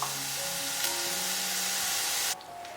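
Sour cabbage stir-fried in a pan, a steady close sizzle and hiss that cuts off sharply near the end, with no talking.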